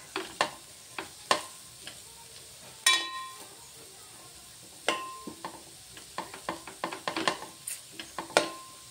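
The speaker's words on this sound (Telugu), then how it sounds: "కొంచెం సిమ్లో పెట్టేసి వీటిని ఇలా మగ్గిద్దాం." Bitter gourd pieces cook in a pan over a low flame, with a soft sizzle under sharp intermittent clinks and scrapes of a utensil stirring against the pan.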